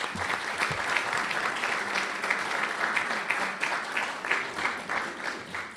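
Luncheon audience applauding, steady close clapping from many hands that holds at a moderate level throughout, with no speech over it.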